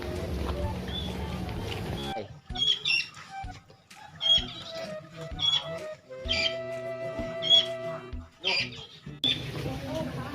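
Chickens cluck and squawk in short bursts and sharp calls, fairly close, with people talking in between and over them.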